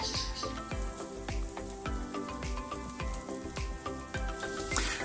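Burger patties sizzling on a grill, a steady crackling fry with scattered sharp pops running throughout, close and fairly loud with music behind.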